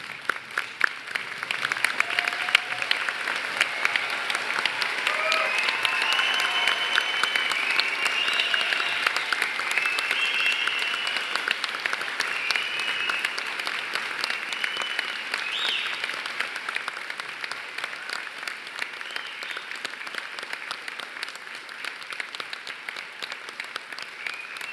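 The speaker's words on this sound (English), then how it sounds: "all of the rest of us stand and join me in applauding their wonderful achievements" Long standing ovation at a University of Newcastle graduation ceremony in Australia, a large hall filled with continuous dense clapping, with scattered cheers and whistles rising over it before slowly tapering.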